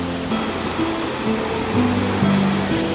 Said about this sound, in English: Look at the way the water's flowing right now.